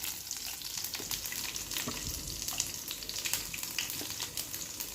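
Garlic and asafoetida sizzle steadily in hot oil with popping mustard seeds, a close, continuous crackle with occasional stirring while a sweet-and-chilli pickle is cooked.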